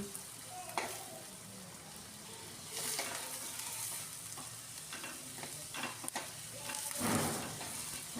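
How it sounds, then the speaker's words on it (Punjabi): Sliced onions frying in a hot pan for a milk and onion bhurji, a continuous close sizzle broken by repeated stirring scrapes and light clatter. "ਥੋੜੇ ਜਿਹੇ ਪਿਆਜ਼ ਮੈਂ ਫਰਾਈ ਕਰ ਲਾਂਗੀ"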